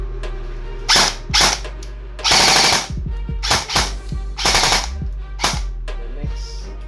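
An EC854 airsoft rifle with a trigger switch problem fires on battery power in several short, loud mechanical bursts of rapid cycling clatter, separated by brief pauses and a faint motor whine, close up.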